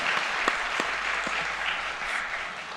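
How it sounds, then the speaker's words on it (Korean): Encouraging applause from a church congregation during a Sunday worship service, a brief, steady burst of many hands clapping at moderate loudness without speech over it. "박수로 한번 격려의 박수를 드립니다."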